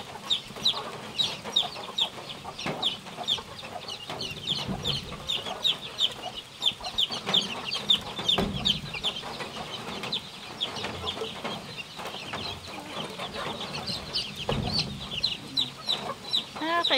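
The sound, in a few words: chicks and chickens clucking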